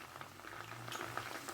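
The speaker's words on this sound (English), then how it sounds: "So when it's foaming, it means there is no longer water" Ginger and garlic cooking in oil in a home kitchen fizzes and foams with a steady, soft sizzling hiss and faint crackles, no voices.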